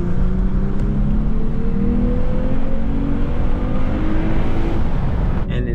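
A 2023 Lexus IS 350 F Sport AWD engine heard from inside the cabin while driving, a steady, loud drone that climbs gradually in pitch as the car accelerates, with road rumble underneath.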